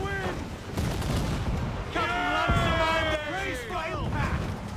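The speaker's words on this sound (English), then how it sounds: "Stop shooting at me, dude!" Gunfire in Assassin's Creed IV Black Flag: a steady barrage of shots and booms amid battle noise, with bursts of pitched tonal effects in the middle, loud and continuous throughout.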